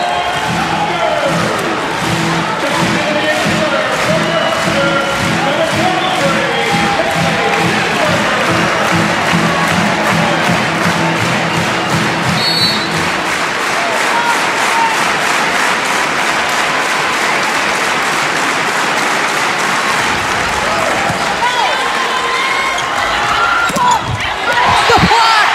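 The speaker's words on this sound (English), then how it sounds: "Crowd on its feet." A volleyball crowd at a Nebraska vs Penn State women's match stands cheering and applauding, a loud, dense roar that holds steady for the whole stretch, with a commentator's voice and some music mixed in early on.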